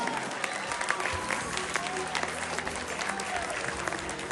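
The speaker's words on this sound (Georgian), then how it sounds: "აპლოდისმენტები" An audience at an award ceremony claps in a sustained round of applause, steady and fairly close, while a voice speaks over it.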